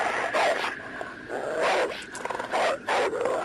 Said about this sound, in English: yes, a very upset, angry dog, probably times about 10.